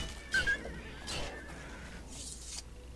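Horse whinnying in the fantasy role-playing video game Oblivion. A shrill neigh comes first, then a second call, then a softer snort-like tail, all at moderate loudness with no talk.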